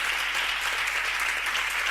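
Church congregation applauding loudly and steadily, a dense unbroken wash of clapping throughout with no talk over it.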